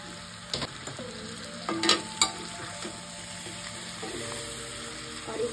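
Tomatoes frying with onions in a pan on low flame for a spinach chicken curry, a steady soft sizzle with a few louder stirring scrapes and clatters, no talking.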